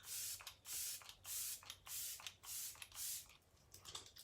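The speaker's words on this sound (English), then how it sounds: "I'm gonna go ahead with my refreshing spray and set my face." Six quick hissing spritzes from a face setting spray bottle, evenly spaced and close, followed by softer faint pumps in a quiet room.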